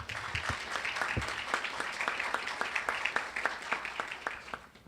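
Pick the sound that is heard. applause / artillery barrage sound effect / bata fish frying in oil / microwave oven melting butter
applause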